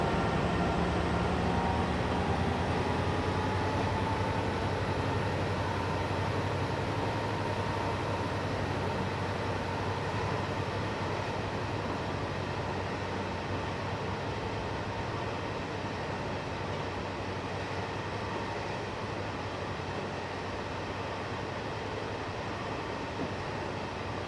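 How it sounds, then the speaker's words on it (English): A long freight train rolls past on the Cajon Pass line in Train Simulator 2015, a continuous loud rumble of wheels and engines droning steadily for over twenty seconds without any talk. "Go ahead and watch the entire train go by real quick."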